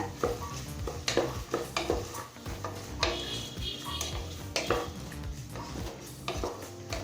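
Carrots, beans and green peas sautéing in a pan, a sizzle under frequent clattering strokes and scrapes of a spoon against metal, close and busy, without speech.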